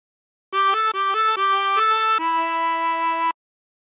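Harmonica playing a phrase of a song: a run of short, clear reedy notes, then one long sustained note, played alone and close.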